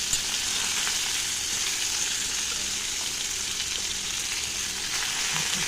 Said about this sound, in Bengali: মাছটা ভাজা হয়ে গেছে, এবার পটলগুলো ভেজে নেব।